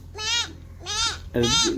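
Three quick bleating cries in a row, a young voice mimicking a goat up close, each call trembling and bright.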